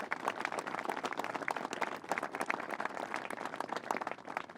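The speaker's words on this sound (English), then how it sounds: "Let's give them a round of applause." Outdoor crowd applause at a groundbreaking ceremony for a new elementary school, a steady dense patter of many hands clapping at once, sustained and fairly near.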